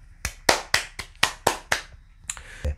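A few slow, deliberate hand claps, about nine sharp strikes at an even rhythm, close and fairly loud in an otherwise quiet room, with no voices.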